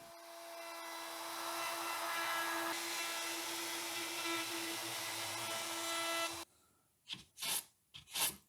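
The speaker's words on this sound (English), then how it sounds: "I'm going to round off all the edges with 1/8 inch round over bit." A router fitted with a 1/8 inch round-over bit shapes the edges of a wooden noodle board, a loud steady high-pitched whine for about six seconds, then stops, followed by a few short bursts.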